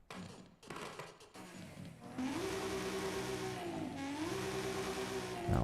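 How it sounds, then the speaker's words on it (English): In Forza Horizon 5, short bursts of engine noise give way to a deep, powerful V8 rumble that rises and falls in pitch as it revs hard, loud and continuous. "the V8 obviously sounds great"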